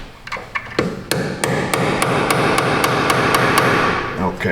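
A hammer strikes the metal edge of a Nissan Frontier's suspension parts in a quick run of sharp, ringing knocks, close and loud over a steady mechanical hum.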